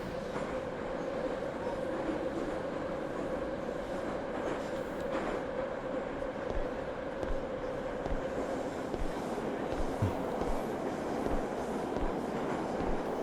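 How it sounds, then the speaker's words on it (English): A looping train sound from a video game runs continuously, a steady rumble of rolling wagons with a few faint clicks and thumps. It stays fairly loud and even throughout, and no one speaks. "it's just an audio loop of a train running and then stopping and then starting up again"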